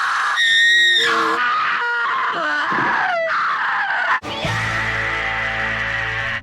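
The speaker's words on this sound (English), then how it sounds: "the first montage is going to be guttural screams" A montage of guttural screams from the horror film City of the Living Dead: several loud, distinct screams, groans and wails follow one after another, ending in a sustained, harsh roaring scream.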